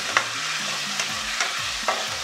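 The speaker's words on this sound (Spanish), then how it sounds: "Ahora voy a mezclar todo esto." Onion with red and green peppers and a splash of vinegar sizzles in a pan while a utensil stirs, steady frying hiss with soft periodic scraping strokes.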